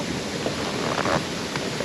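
A river near Stavanger in the Norwegian fjords flows toward a waterfall, giving a steady, even rushing wash of water with no voices.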